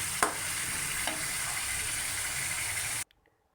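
Chicken and onions fry in a pot with a dense, steady sizzle and a couple of stirring knocks, then the sound stops abruptly after about three seconds.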